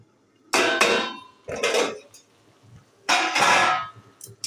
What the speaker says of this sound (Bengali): জলটা না শুকনো হওয়া পর্যন্ত আমাকে এরকম আস্তে আস্তে একটু নাড়তে হবে